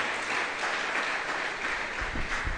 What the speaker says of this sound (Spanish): Denle ese aplauso especial al Rey de Reyes